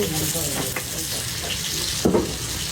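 Fresh river fish sizzle and crackle in hot oil at a busy Bangladeshi restaurant, a steady frying hiss with occasional clinks and a sharper splatter near the end.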